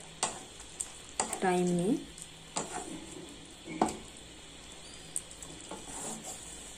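Grated raw papaya chutney with sugar sizzles softly in a pan over high flame while a spoon stirs and scrapes it, with a few sharp clinks against the pan and brief quiet words in between.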